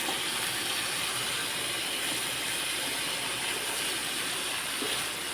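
Chopped ivy gourd (kovakka) sautéing in a hot pan gives a steady, even sizzling hiss that holds at one level throughout, with no voices.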